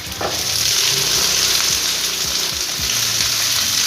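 Mixed soup vegetables are dropped into a hot pot of sautéed aromatics for dory fish soup, setting off a loud, continuous close-up sizzle and crackle with faint stirring scrapes.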